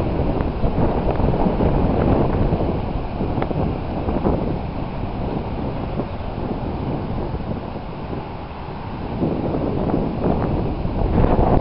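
Wind buffeting the microphone on the Mediterranean coast, with a rough continuous roar of gusts and sea surf that surges and eases over several seconds, loud and close.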